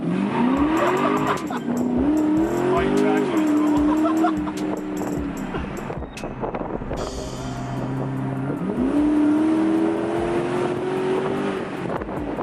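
2012 Dodge Charger SRT8 with a cammed 6.4 engine launching hard, with a loud rising engine roar through gear shifts, a brief lull, then another surging pull with some tire noise.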